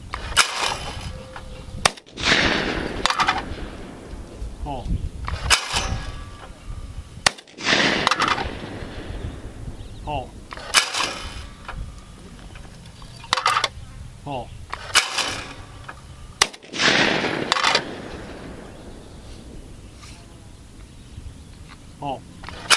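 Beretta A400 Xtreme Unico shotgun firing outdoors, several loud, sharp single blasts spaced a few seconds apart, each ringing out briefly, with a man calling out between shots.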